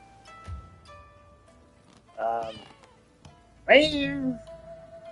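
Two distinct cat meows from the video game Rise of the Ronin, the second louder and drawn out, with faint game ambience and music tones between them.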